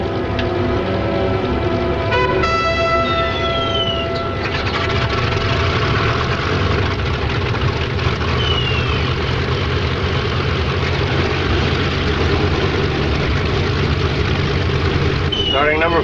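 An engine cranks and catches, then settles into a steady, loud idle, a heavy low rumble with a whining tone near the start, as crew members call out engine start commands over it.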